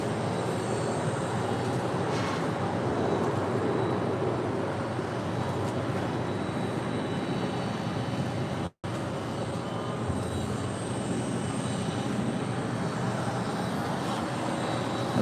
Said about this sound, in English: The next departure is United Airlines Flight 2280 heading to Boston.